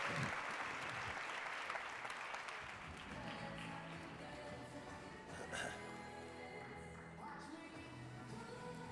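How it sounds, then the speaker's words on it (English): Applause from a conference audience fills the clip, strong at first and then thinning, with voices talking over it, at an opening ceremony for a bleeding disorders conference in Atlanta, Georgia. "Can we give a round of applause for all of my friends who've been here on the stage with me?"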